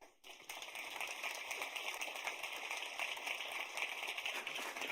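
Applause from the audience at an awards ceremony, steady clapping from many hands that starts abruptly and holds at an even level, heard from within the hall.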